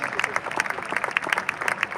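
Congregation at a church gathering claps and cheers for the Lord, with a burst of rapid, uneven hand claps and crowd voices, fairly close and lively.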